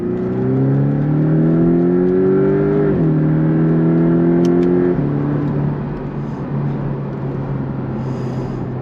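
A Porsche 718 Cayman's four-cylinder engine revs up steadily under acceleration, its note dropping sharply with each of two quick paddle upshifts before settling into a steady drone, close and loud with no talk.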